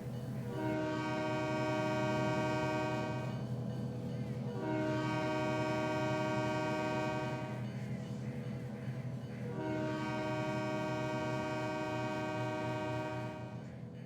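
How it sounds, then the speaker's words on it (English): Trains in motion on a model railroad layout, with a loud, chord-like horn sounding three long blasts over a steady rumble of moving cars. "I always like to see two trains in motion"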